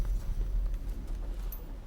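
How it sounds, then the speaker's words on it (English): Horse hooves clip-clop in a samurai-era action video game as a character rides, a soft, steady patter of steps under low rumbling ambience. "Oh, he can ride a horse."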